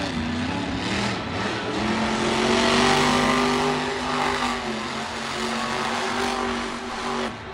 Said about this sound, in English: you get to listen to the sound of independent monster trucks